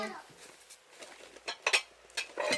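Ceramic plates clink lightly as they are handled and stacked, a handful of short, close, fairly quiet clatters spread irregularly, with no talk over them.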